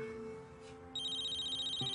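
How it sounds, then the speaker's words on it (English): A cell phone ringtone begins about a second in as a faint, high, steady electronic warble over quiet room tone, in an indoor dramatic scene. "My cell's ringing"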